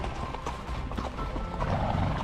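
Horse hooves clip-clopping during horseback riding in Iceland, heard from the saddle: steady rhythmic hoof beats under heavy wind and movement noise, with faint voices in the background.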